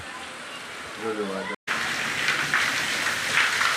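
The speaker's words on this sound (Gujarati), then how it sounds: "વરસાદ ફૂલ એકદમ સ્પીડમાં ચાલુ થઈ ગયો છે" Heavy rain pours steadily at night beside a verandah, a dense, close hiss of drops that swells after a brief cut, with a short spoken word near the start.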